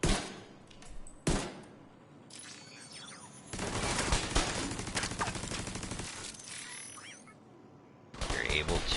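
Gunfire in The Division 2: loud, sustained bursts of rapid automatic shots, with a couple of isolated sharp reports earlier and a final burst at the end.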